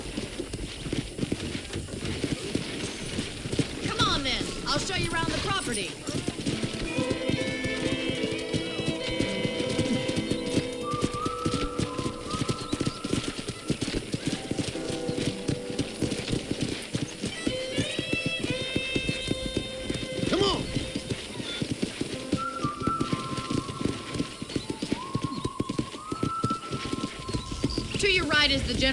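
Steady clip-clop of a horse's hooves while riding in the video game Red Dead Redemption, running the whole time under a man's and a woman's conversation, with faint birdsong in the background.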